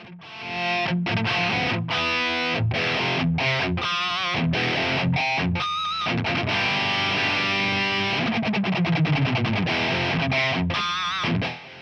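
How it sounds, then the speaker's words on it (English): Electric guitar through a cranked Marshall JCM900 tube amp in power amp saturation plays a chunky, saturated riff with rhythmic chord stabs and sustained bends, loud and continuous with no talking. "you can get that sweet power amp saturation at a realistic volume"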